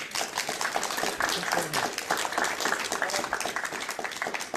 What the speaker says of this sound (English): we give him another clap for coming up